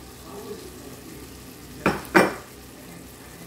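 Ground coconut being stirred into a ridge gourd stir-fry in a pan, two sharp scraping strokes of a spoon against metal over a low background sizzle.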